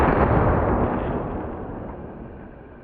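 A can cannon firing a pop can at a target, heard as one loud close blast that fades into a long rumbling decay over a few seconds.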